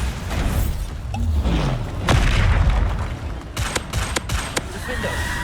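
Bombarda explosion spell blasts in the Hogwarts Legacy video game, several booming thumps and crackling bursts in quick succession amid combat effects.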